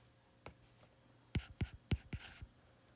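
A pen or marker writing out an optics physics solution, with a few scattered taps followed by a quick cluster of scratchy strokes, close and quiet.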